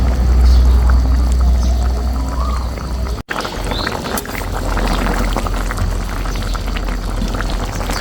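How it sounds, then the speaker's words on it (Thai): Indian trumpet pods being added to a simmering catfish curry pot, with a steady bubbling and rushing liquid sound, a brief drop in the middle, loud and close with no talk. "ใส่ เพกาลงไปเลย"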